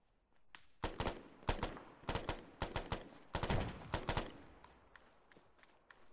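Sharp gunshots ring out in an irregular series during a team beach assault, a dozen or more reports of mixed loudness, some close and punchy, others fainter, with no talk.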